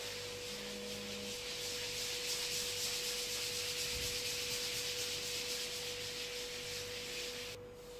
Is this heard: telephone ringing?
no